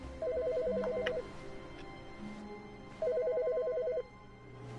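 A telephone in the video game The Stanley Parable rings in two electronic trilling bursts, each about a second long, separated by a pause over quiet background ambience.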